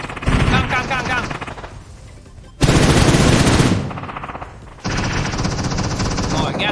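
Rapid bursts of automatic gunfire in the mobile game PUBG Mobile, loud and close, coming in several dense volleys separated by brief lulls.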